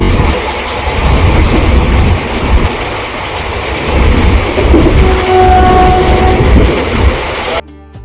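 A passenger train rumbles loudly and steadily close by at platform one of Bishnupur Junction, with a low mechanical drone and a faint higher tone, then cuts off abruptly at the end.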